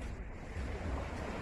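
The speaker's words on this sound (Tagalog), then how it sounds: "naririnig nyo yung boses ng alon" Ocean waves wash onto a dry sandy beach in a steady, low rushing roar, with wind buffeting the microphone and no voices.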